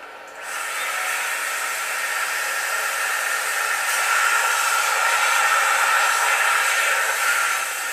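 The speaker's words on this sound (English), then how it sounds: "we've got the 230 volt vacuum turner on blow function, which works really well" Steady rushing blower noise starts abruptly after half a second and runs continuously, a loud airy hiss from a 230-volt vacuum cleaner on blow function inflating an inflatable boat.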